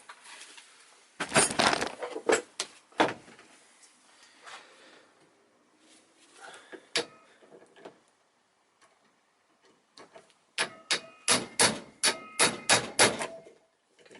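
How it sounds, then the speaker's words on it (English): Sharp metallic hammer blows on stuck parts of a Toyota Corolla, close and loud, in irregular bursts: a quick cluster, scattered strikes, then a rapid run of steady hits. "It is also stuck, and I need to hammer these more."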